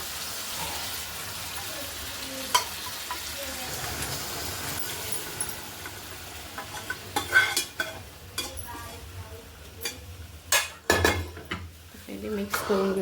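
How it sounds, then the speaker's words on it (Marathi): A ladle stirs cooked dal into spiced sambar tempering in a cooking pot, making intermittent scraping and clinking against the metal over a faint background, with sharper knocks toward the end. "पहिले मिक्स करून घेऊया"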